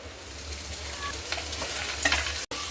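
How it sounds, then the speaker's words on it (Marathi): Spring onion greens frying in a pan with chopped onion for a spicy brinjal bharit, a continuous close sizzle broken by a few stirring scrapes, ending in a brief cut to silence; no voices. "कांद्याची पात मी 1 मिनिटभर परतून घेतलेली आहे."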